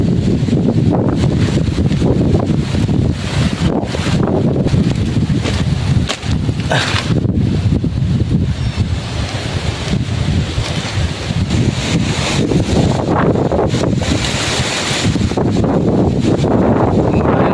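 Strong, gusting typhoon wind roars and buffets the microphone continuously, with rushing, surging noise rising and falling throughout.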